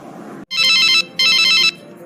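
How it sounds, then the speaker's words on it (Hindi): An incoming call on a mobile phone plays a bright electronic ringtone in two loud, sustained bursts separated by a brief pause, close and alone. "अरे ये तो मेरी भूमि का फोन है।"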